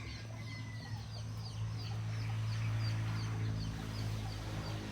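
Chickens cluck and chirp in a steady barnyard chorus alongside pigs and turkeys, with a low continuous hum running underneath throughout.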